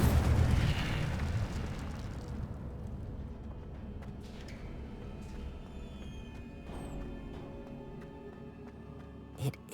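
Incendio fire spell cast in Hogwarts Legacy, a loud burst at the start that decays into a long, roaring rumble and crackle, with a sharp pop near the end.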